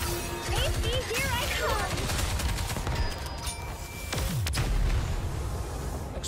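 Explosions and heavy weapon fire from the shooter game Goddess of Victory: Nikke make a dense stream of booms and crackling blasts, with music and character voices layered on top and a big impact near the end.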